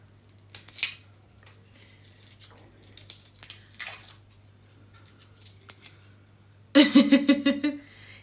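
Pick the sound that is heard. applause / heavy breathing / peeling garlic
peeling garlic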